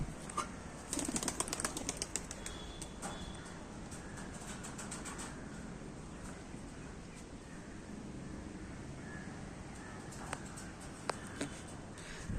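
A pet pigeon takes off and flies, giving a faint burst of flapping wingbeats early on over quiet, steady outdoor background noise.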